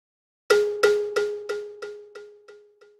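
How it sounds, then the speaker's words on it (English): A single struck tone passes through a delay effect with feedback, repeating about eight times at a steady quick pulse, each echo fainter than the last until it fades out. "Let's see the effect of feedback."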